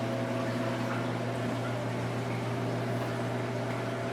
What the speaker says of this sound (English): Water going through.